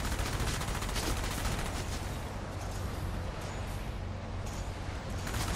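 Plasma gun fire in the video game Enslaved: Odyssey to the West, a loud, dense, continuous barrage of rapid energy shots that fills the whole stretch without pause.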